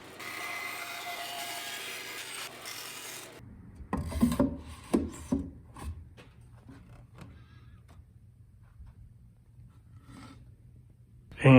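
Sawing through a wooden board for a mobile pizza oven stand built for an Ooni Karu 12: a steady raspy cutting stretch, then several separate bursts of rubbing and scraping, ending with a brief loud knock.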